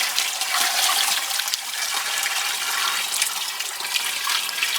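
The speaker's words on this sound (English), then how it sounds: "add some water to it." Water pours steadily into a calf's water bucket in a small barn, a continuous hissing splash close by with no talking.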